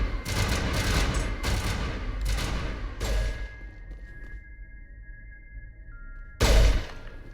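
Sci-fi gunfire from Mass Effect 1 rattles in several sharp bursts over the first three seconds, then fades to a humming tone before one final loud blast near the end.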